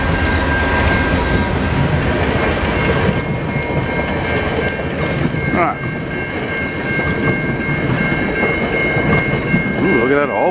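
Via Rail passenger train made up entirely of Budd cars rolling past close by, a loud continuous rumble and rail clatter with squealing wheel tones, and a man's brief exclamation over it.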